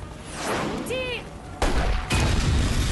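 Gunfire bursts in a French-dubbed action film: a loud hard onset around the middle, then a dense crackling volley that continues to the end. A whistling tone sounds briefly beforehand.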